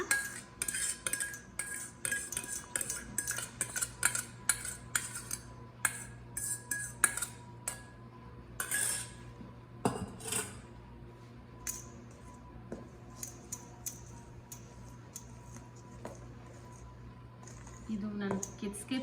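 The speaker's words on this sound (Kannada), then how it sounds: "ಈ ವೆಟ್ ಇಂಗ್ರೀಡಿಯೆಂಟ್ನ ಡ್ರೈ ಇಂಗ್ರೀಡಿಯೆಂಟ್ಗೆ ಹಾಕಿ ಮಿಕ್ಸ್ ಮಾಡ್ಕೊಳ್ಳೋಣ" Wet ingredients being mixed into dry ones for gluten-free banana muffin batter, heard as repeated close clinks and scrapes of a utensil against a bowl with a low hum beneath, while someone talks over it.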